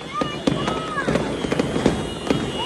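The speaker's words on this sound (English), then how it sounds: "the fireworks were just crazy" New Year's fireworks bursting right outside a house in the Philippines: repeated sharp bangs and crackling pops with whistling streaks rising between them, loud and close, while people talk excitedly over the blasts.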